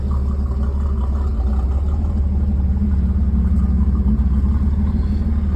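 A 1987 Buick Grand National with a rebuilt engine is running: a loud, steady idle with a low rumbling pulse, heard up close with no talking.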